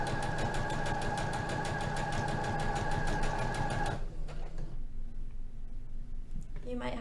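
A sewing machine stitches fabric in a fast, steady whirring run for about four seconds, then stops, leaving quieter room sound with a voice speaking.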